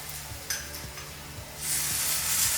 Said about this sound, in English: Putting that salsa in there.